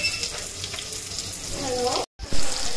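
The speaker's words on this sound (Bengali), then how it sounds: "তো পেঁয়াজ অলমোস্ট ভাজা হয়ে গেছে।" Onions frying in hot oil in a pan for a hilsa and eggplant curry, giving a steady, close sizzling hiss that cuts out briefly near the end before resuming.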